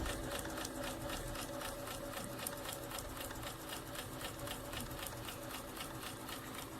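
Bernina B350 sewing machine stitching at a fast, steady speed, a continuous close whirring hum with rapid, even needle ticking throughout and no talk.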